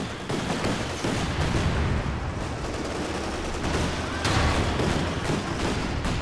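Dense, continuous gunfire from mortars and a machine gun fills a Company of Heroes 2 battle, with rapid overlapping shots and dull blasts rolling on without a break.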